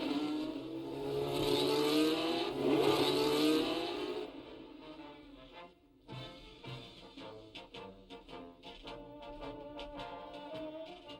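Racing cars with flat-12 engines at a 1970 race, heard first as a loud sustained engine roar that cuts off, then as a run of sharp revving bursts and pops.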